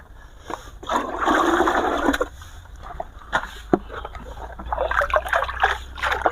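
Pond water is poured into a container to soak aglaonema plants, a loud rushing splash for about a second and a half, then scattered drips and knocks, then a second gushing pour near the end.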